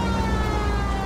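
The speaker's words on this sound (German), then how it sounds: "Sirene! Damit geht's hoffentlich besser." A police car siren in the video game L.A. Noire wails steadily and loudly, a continuous tonal whine over road noise with no talking.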